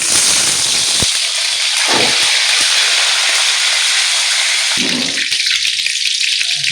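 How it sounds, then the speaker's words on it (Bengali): Wet potato pieces dropped into hot oil for biryani, crackling and spitting loudly at first and then settling into a steady hiss, with brief pops and a burst of spattering near the end, very close. "আলুর গায়ে একটু হালকা হালকা পানি ছিল, তার জন্য এরকম হচ্ছিল, চটপটা আওয়াজ হচ্ছিল"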